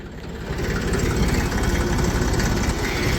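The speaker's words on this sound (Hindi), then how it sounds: "ये देखा जी भाई का ट्रैक्टर जा रहा है" A tractor engine runs loud and close as it drives past, a steady heavy low rumble with a knocking vibration that holds for several seconds with no one speaking.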